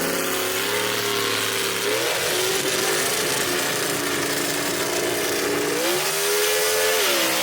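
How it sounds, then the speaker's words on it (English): A 1962 Ford Falcon gasser drag car launches down the dragstrip at a Kil-Kare Dragway race, its loud engine roaring and rising in pitch through gear changes, close and continuous. "Daniel Haynes right here going to be in the left lane in that 62 Ford Falcon"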